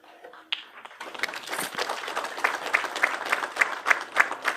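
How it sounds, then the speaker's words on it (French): An audience at a church colloquium in Kabuga bursts into applause after a brief opening sound, the dense clapping building and holding steady, moderately loud and close, with scattered sharper claps standing out. "ce n'est pas suffisant les applaudissements"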